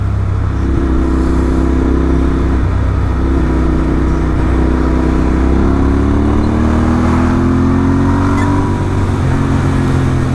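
Royal Enfield Interceptor 650 motorcycle fitted with an S&S camshaft accelerating hard, its engine note climbing steadily in pitch through the rev range, loud and close with steady wind rush and no talk.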